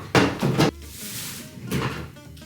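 A dresser drawer in a bedroom being shut, giving two quick close bumps near the start and another thud later, close and moderately loud with faint room noise between.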